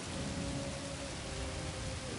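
A steady drizzle of rain hisses on surfaces as a storm closes in, dense and continuous with a low rumbling undertone, no voices.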